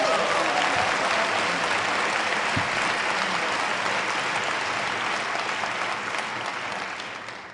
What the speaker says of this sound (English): There's a strong clap anything faction here tonight.